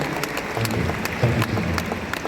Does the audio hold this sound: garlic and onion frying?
no